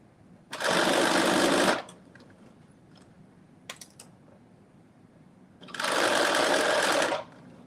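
A sewing machine runs two loud, steady bursts of stitching, each over a second long, sewing a reinforcement stitch on a garment sleeve, with soft handling clicks in the quiet gap between them and no talk.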